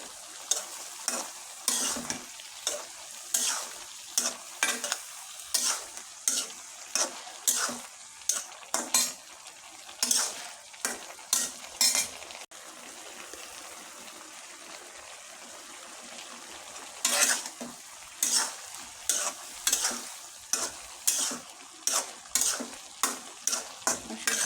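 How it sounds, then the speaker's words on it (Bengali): Vegetables with coriander powder and turmeric stirred and fried in a pan, rapid rhythmic spoon scrapes over a steady sizzle, pausing briefly midway before resuming; no talking. "সবজিটা কষাইতেছি ভালো করে"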